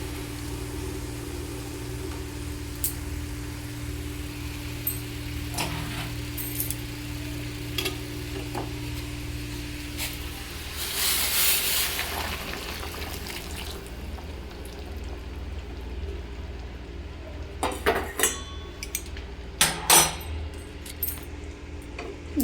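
Hot boiled water poured into a pot of jackfruit curry, then stirred: a steady faint hiss and sizzle, a louder rushing pour in the middle, and sharp clinking of a utensil against the pot near the end.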